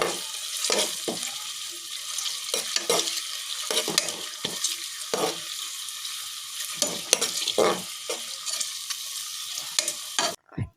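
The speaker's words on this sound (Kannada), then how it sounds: "ಈರುಳ್ಳಿಯನ್ನು ಚೆನ್ನಾಗಿ ಫ್ರೈ ಮಾಡ್ಕೊಳ್ಬೇಕು. ಅದು ಸ್ವಲ್ಪ ಬ್ರೌನ್ ಕಲರ್ ಆಗಬೇಕು." Onions for chicken biryani fry in a pan, a steady sizzle broken by frequent scraping stirs and light clinks of a utensil against the pan, close and fairly loud.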